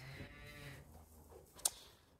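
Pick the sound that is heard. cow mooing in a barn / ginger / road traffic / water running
cow mooing in a barn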